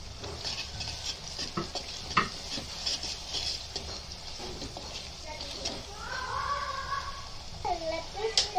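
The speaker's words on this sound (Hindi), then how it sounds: "दही को अच्छे से मिक्स करेंगे। 2 मिनट पकाएंगे दही के साथ।" Yogurt being stirred into fried masala for a clay-pot chicken curry, with spoon scrapes against the pot and a steady sizzle running throughout under nearby background sounds.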